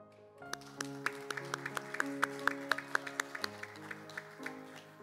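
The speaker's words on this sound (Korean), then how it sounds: "더 크게 박수해 주시기 바랍니다." Scattered clapping from a congregation at a church ordination service under sustained organ or keyboard music, individual claps audible as sharp spikes rather than a dense roar.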